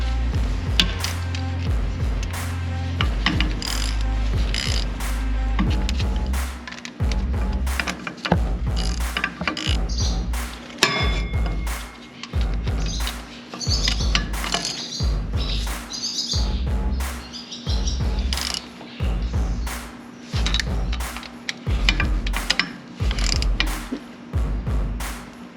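Bolts being snugged down by hand tools while a new injector is fitted: a long run of sharp, evenly spaced ratchet clicks and metallic ticks, close and fairly loud, with a steady low hum beneath and a few brief chirp-like squeaks.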